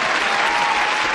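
A brief, dense burst of studio audience applause fills the whole moment, steady and fairly loud, with no talking over it.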